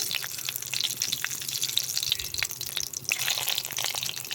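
Black cumin and green chillies frying in hot oil give off a steady, close hiss with scattered crackles and pops throughout.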